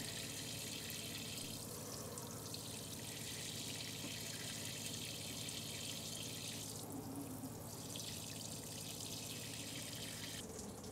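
Water from a motorhome shower runs steadily down into the waste tank, a soft continuous hiss and splash with gentle fluctuations, fairly quiet and uninterrupted with no voices.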